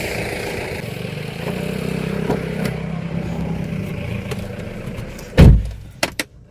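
A Tata Nexon EV car pulls out with a steady low rumble of motion and road noise, followed by a loud thump near the end and a couple of sharp clicks.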